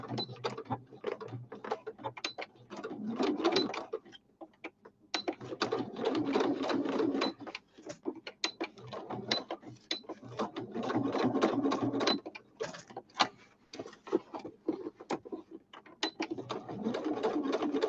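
A sewing machine stitches fabric in quick rattling bursts, its needle clatter starting and stopping with short pauses between runs, close but fairly quiet, with no talking.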